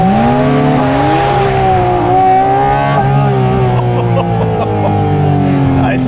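A Porsche GT4 RS race car engine revs high toward 9,000 RPM, with loud, close rising and falling harmonic wails sustained for several seconds and a voice faintly present beneath.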